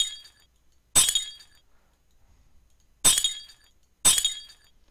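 Three sharp bursts of breaking glass from a physics fracture simulation, each a bright crash with a ringing, tinkling tail, spaced about a second or two apart with quiet between.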